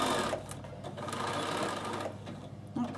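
A sewing machine stitching a fabric produce bag made from a fat quarter, a steady fast mechanical whir with a brief pause, close and loud.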